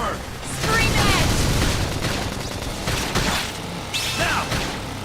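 Rapid bursts of gunfire and impacts ring out in the Xenoblade Chronicles X video game during a mech battle, layered with clanking effects and explosions in several loud surges.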